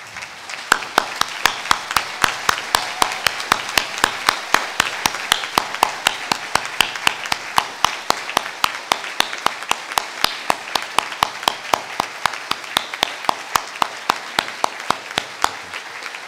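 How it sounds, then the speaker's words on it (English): Delegates at a trade union gathering stand and clap in a show of solidarity, a loud, steady rhythmic clapping in unison that keeps a regular beat throughout with no speech on top. "if you wouldn't mind standing and giving a round of applause in a show of"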